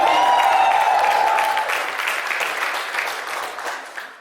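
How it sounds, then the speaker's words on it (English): Loud, sustained audience applause with cheering, gradually thinning out over a few seconds. "Can we have another big round of applause for him?"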